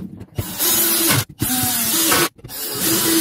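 A power driver or screwdriver drives screws to fix a seat frame to the floor of an Iveco Daily camper van, three close bursts of whirring with short pauses between them, heard up close without talk.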